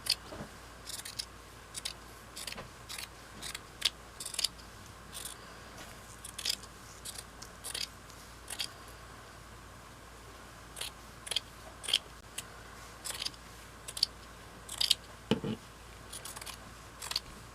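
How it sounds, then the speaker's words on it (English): Scissors make a series of quiet, crisp snips through a tube of tee-shirt fabric as the side seams are cut away, the irregular cuts coming in short bursts over a hushed room. "And you want to cut the side seams off of it."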